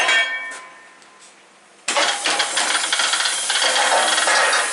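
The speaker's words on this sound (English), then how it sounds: "Let's put the air hose on it." A sudden loud rush of air bursts from a shop air hose after a quiet stretch, then keeps hissing steadily with slight fluctuations.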